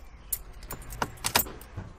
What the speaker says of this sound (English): That's the ignition.